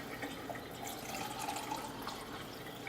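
Hot water poured back and forth between two cans to loosen stuck paste, a steady continuous splashing and trickling pour heard up close with no talking.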